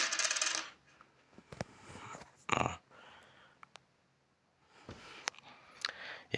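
Simple ordinary coins are handled up close, making several bright clinking and jingling bursts separated by quiet pauses.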